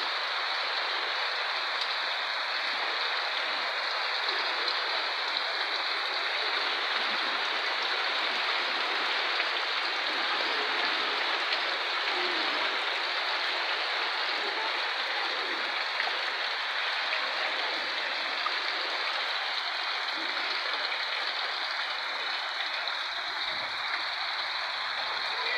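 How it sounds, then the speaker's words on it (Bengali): Steady rain keeps falling once a storm has passed, a dense, even hiss of drops on surfaces that holds at the same level throughout with no voices. "এবার ঝড় থেমে গেছে, শুধু বৃষ্টি আসছে।"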